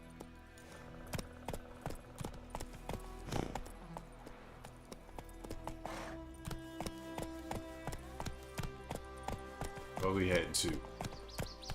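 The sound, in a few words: horse Roach galloping, hooves clip-clop, in video game The Witcher 3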